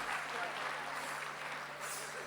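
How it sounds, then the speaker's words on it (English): An audience at an annual corporate meet and function breaks into sustained applause, a dense, even wash of clapping that fills the whole moment without letting up. "let's hear one big round of applause for all you wonderful people who have gathered here tonight."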